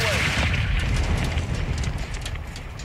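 A missile launcher fires in Call of Duty: Modern Warfare 2 (2022), a heavy booming blast that rolls on under continuous battle noise and shouted voices.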